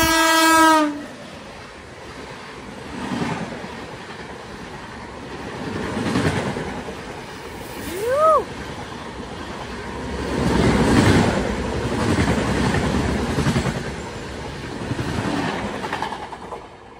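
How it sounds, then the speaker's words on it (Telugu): A WAP-7 hauled express on the Nandyal–Guntur route gives a short horn blast, then thunders past at high speed. Loud, sustained rushing and rumbling wheel noise follows, with a brief squeal midway. "అక్కడ నుంచి ఏదో ట్రైన్ వస్తుంది"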